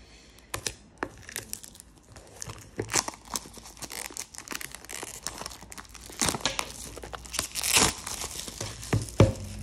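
An oracle card box being unwrapped and opened by hand produces close crinkling and tearing of plastic wrap, with irregular rustles, crackles and a few sharper snaps, loudest toward the end, and no speech.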